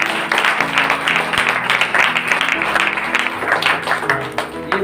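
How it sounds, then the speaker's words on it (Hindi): A church congregation claps their hands together in a dense, continuous patter, with music and voices running underneath. "इसलिए एक बार भाई लोग सब लोग ताली बजाएंगे।"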